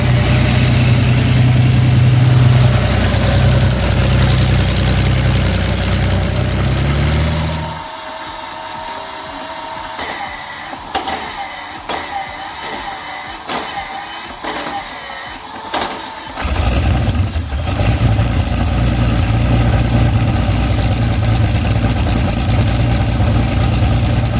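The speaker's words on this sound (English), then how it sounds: "We're about to fire up the incredible Allison 1710 V12." An Allison V-1710 V12 aircraft engine roars loudly and steadily, drops into rough, uneven sputtering for several seconds, then surges back to a full, constant rumble.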